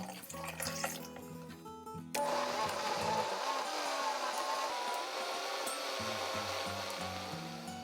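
An electric blender whirs loudly and steadily as it purees sliced pear and onion with salted shrimp, anchovy fish sauce, plum extract and cooled broth. Clattering kitchen sounds come before it starts.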